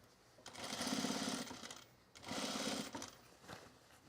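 Two bursts of a sewing machine top-stitching denim jeans, each running about a second and a half with a short pause between, close and fairly quiet.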